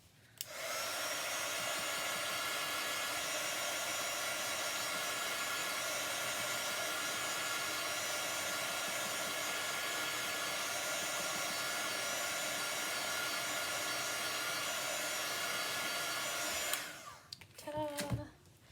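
A hair dryer blows on chalk paste on a lemonade-themed craft project, a loud, steady, close whoosh with an even whine that runs nearly unbroken and then cuts off, followed by a few faint handling clicks.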